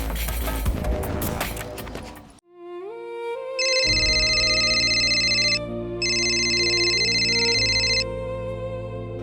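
After a burst of noisy clatter, an electronic phone ringtone plays, ringing in two sustained bursts with a short gap between them.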